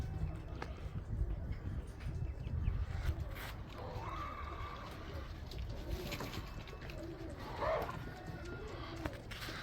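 Black widow racing pigeons of a race team in a loft, soft cooing and bird calls against quiet background rustle and shuffling, fairly faint and close.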